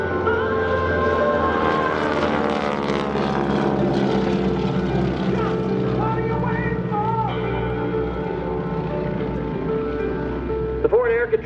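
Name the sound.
propeller aircraft flying at an airshow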